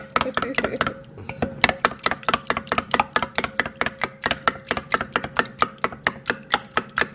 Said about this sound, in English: we're beating these eggs real good